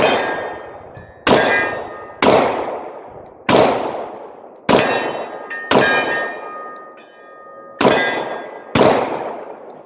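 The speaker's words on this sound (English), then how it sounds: "Now, my favorite, shooting left-handed, one-handed, okay?" Seven sharp Glock .40 caliber pistol shots fired one-handed, spaced about a second apart, each a loud crack followed by a ringing decay, at an outdoor range.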